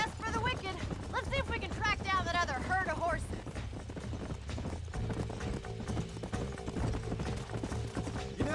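Horses' hooves clip-clop steadily in the Red Dead Redemption western video game, a rhythmic trotting beat that runs nearly the whole time under character dialogue and background music.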